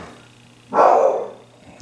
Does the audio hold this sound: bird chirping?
no